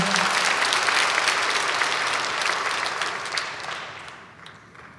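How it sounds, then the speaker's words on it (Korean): A church congregation applauds during a sermon, a dense burst of clapping that starts loud and steadily fades over a few seconds without any voices over it. "박수를 한번 해도 괜찮은데"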